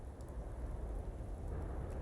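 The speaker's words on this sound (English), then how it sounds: "Well, maybe if it weren't raining." Rain falling in the Fallout 76 video game, a steady dense patter with a low rumbling wash underneath, continuous and fairly soft, with no talk.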